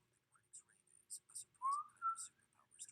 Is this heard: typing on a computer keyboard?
no